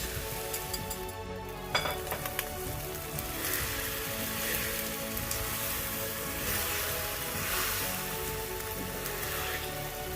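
Eggs poured over hash browns in a hot cast iron skillet sizzle and crackle steadily throughout, a dense, even frying hiss with a brief sharper spatter near the start.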